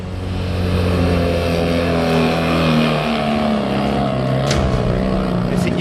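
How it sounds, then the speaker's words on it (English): A Dakar rally vehicle with a single engine labors up a long, steep climb of soft sand, its motor droning steadily at high strain with shifting pitch, close and loud, with brief knocks and scrapes. "I only have one engine, and it just doesn't have enough power."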